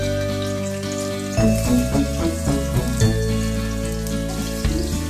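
Finely chopped onions dropped into hot oil in a home kitchen, starting with a sudden loud sizzle that settles into steady crackling and popping frying, with a harmonic background hum running underneath.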